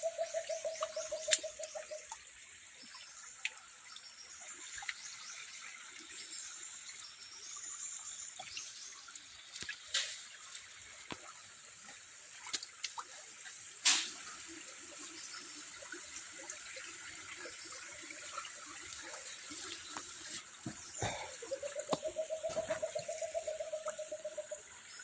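Water runs down through a hose from higher ground, a steady, soft hiss and trickle that continues throughout, with birds cooing and calling nearby and a few sharp knocks.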